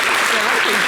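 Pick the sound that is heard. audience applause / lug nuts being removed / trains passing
audience applause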